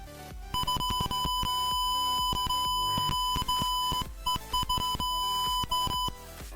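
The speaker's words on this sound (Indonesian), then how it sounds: "kemudian buzzer akan menyala" Continuous electronic buzzer beeping in a Proteus simulation of an ultrasonic-sensor burglar alarm, a high steady tone pulsing in rapid bursts with brief gaps, loud and close, over clicking sounds.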